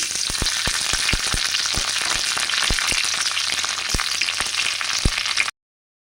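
Cumin, mustard seeds, green chili and curry leaves fry in hot oil in a kadai, a steady sizzle dotted with sharp popping crackles of seeds, near and loud, then sudden silence.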